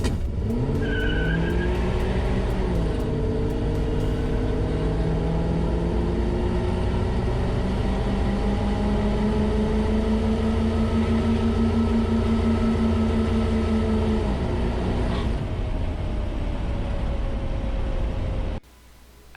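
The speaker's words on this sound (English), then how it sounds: "This run is the 1973 Plymouth Duster with the 318 small block V8." A 1973 Plymouth Duster with a 318 small block V8 roars under sustained acceleration, its engine note climbing steadily and loud throughout before cutting off abruptly near the end.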